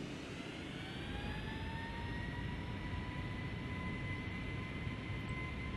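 Boeing 757 jet engines in the FSX flight simulator spool up for takeoff, a steady roar with rising whining tones held at a fairly quiet, even level.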